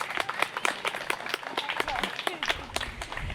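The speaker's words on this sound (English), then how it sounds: "Round of applause for the city staff here from that department." Applause for city staff at the grand opening of a park playground outdoors, scattered, fairly sparse clapping from a modest crowd, heard at moderate distance.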